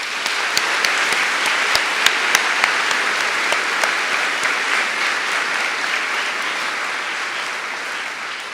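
A large crowd at a university undergraduate diploma ceremony gives sustained applause for faculty, staff and mentors, a dense, steady wash of clapping with a few sharper claps near the start, fading slightly at the end.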